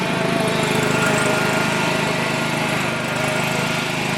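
A small engine with a clutch and choke runs steadily on a pole barn building site, giving a loud, close, continuous buzzing drone with no talk over it.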